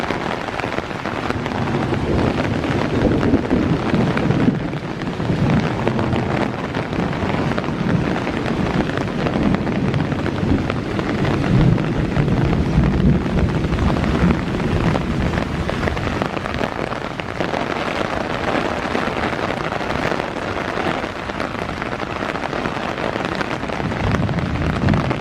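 Steady wind-driven rain pelting down during a morning thunderstorm at Iroquois Park, a dense continuous hiss with gusty rumbling wind buffeting the microphone throughout, no voices.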